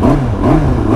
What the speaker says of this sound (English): Actually sounds like a normal motorbike now.